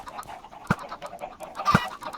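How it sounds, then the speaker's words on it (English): A baby chicken in Minecraft gives a hurt sound, a higher-pitched variant of the video game cry, heard as two short sharp squawks about a second apart over faint background noise. "the baby chickens make a different sound when you kill them"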